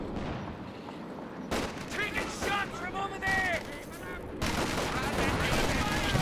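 Machine gun fire in the World War II strategy game Company of Heroes 2, rapid bursts of shots mixed with distant explosions and battle noise, with a voice speaking over the action.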